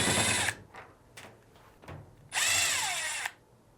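Power drill backing out the top cover screws on a Fisher & Paykel clothes dryer, two long loud whirring bursts with brief clicks and short spins between them, close by.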